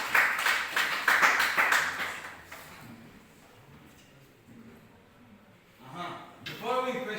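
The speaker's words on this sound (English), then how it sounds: "clap for him" A small classroom group claps briefly for a student, a short burst of hand claps that fades within a couple of seconds, followed by quieter room noise and then someone speaking.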